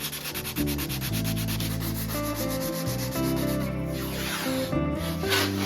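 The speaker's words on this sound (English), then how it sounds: "after that had dried, I sanded it smooth" A wooden piano bench is sanded smooth after spackling, with rapid rhythmic rubbing strokes that run close and continuous for several seconds.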